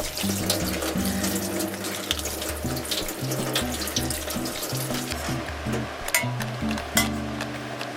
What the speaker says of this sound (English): rinse the lettuce and mini tomatoes and tear the lettuce into sizes that will fit in your bento box